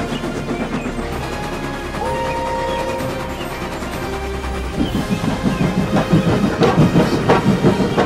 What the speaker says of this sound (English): Whistled Gordon proudly, and with a swish and a roar he was gone.